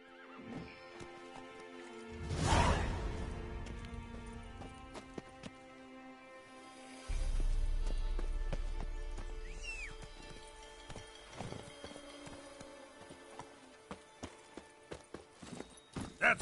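Roach, the horse in the video game The Witcher 3, gives a loud whinny followed by a run of hoofbeats, set against quiet game ambience with scattered clicks.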